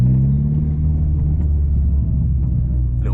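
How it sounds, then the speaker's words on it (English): A Mk4 Golf GTI with an aftermarket exhaust idles close by, a steady deep rumbling drone with a slight burble and no voices. "Exhaust sounds brilliant."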